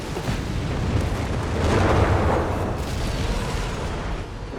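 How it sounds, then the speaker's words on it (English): Nebelwerfer rocket artillery bombarding in Company of Heroes 3, a dense rumbling barrage of distant blasts that swells in the middle and stays heavy throughout. "Nebelwerfers there bombarding."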